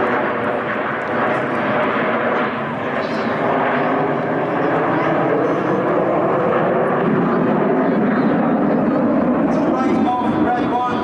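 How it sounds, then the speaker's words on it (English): Supermarine Spitfire at an airshow, a loud sustained engine roar that swells slightly as the aircraft passes, with a festival crowd and commentary faintly underneath. "this is Spitfire"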